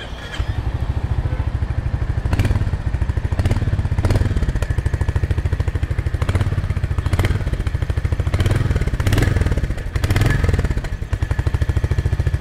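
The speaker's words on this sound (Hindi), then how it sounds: "सो बाइक को कर लेते हैं पहले स्टार्ट और सुनाते हैं आप लोगों को एग्जॉस्ट नोट।" A 2024 Royal Enfield Hunter 350 motorcycle idles up close with a steady, thumping single-cylinder exhaust beat that holds for several seconds.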